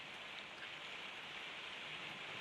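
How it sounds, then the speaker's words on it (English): Rain falls steadily outside, a soft, even hiss of drops on surfaces that carries on unbroken and fairly faint throughout. "it's raining outside."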